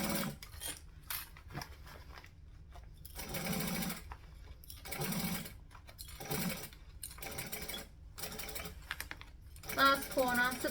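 A sewing machine stitches fabric coated with odicoat in short bursts of fast mechanical whirring, separated by pauses and light handling clatter, heard close and alone.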